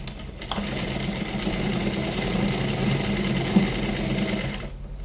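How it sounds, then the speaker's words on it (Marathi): A sewing machine stitches blouse fabric at close range, a fast, even mechanical whirring run of stitching that starts abruptly and stops near the end, with no voices over it. "पूर्ण शिलाई मारून घेऊयात"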